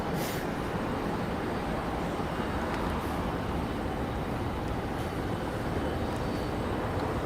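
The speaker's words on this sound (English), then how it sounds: "We've got the Qantas 717." Steady broadband roar of a Qantas Boeing 717 jet at Sydney Airport, loud and continuous throughout with no voices, the engine noise holding constant as from a nearby aircraft.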